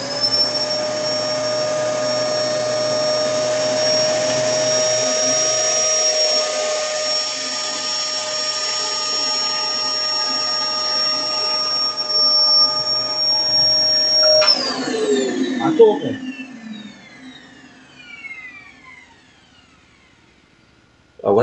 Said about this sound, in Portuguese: pega o aspirador de pó, filho.